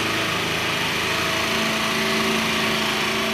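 A Linhai 50cc scooter engine idles steadily with a buzzing, even purr, close and continuous throughout.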